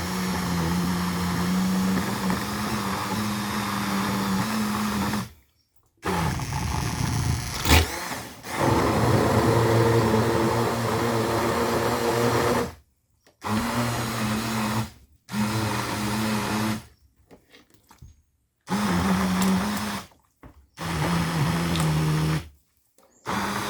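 An immersion blender wand pulps paper in water for papermaking, running in loud whirring bursts of several seconds each. The bursts are split by short silent pauses and the motor pitch shifts as it churns the slurry.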